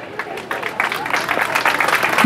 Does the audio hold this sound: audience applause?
yes